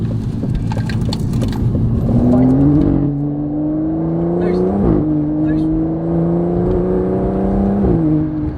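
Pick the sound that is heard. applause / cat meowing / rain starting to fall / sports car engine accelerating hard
sports car engine accelerating hard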